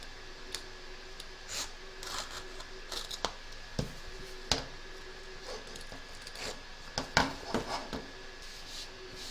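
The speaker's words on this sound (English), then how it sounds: "turn your hoop over and trim around the edge, taking care not to cut your stitching" Scissors snip around the edge of an embroidered watermelon coaster fabric after it is freed from the hoop, giving quiet, close, irregular cuts and small crisp ticks over a faint background hum.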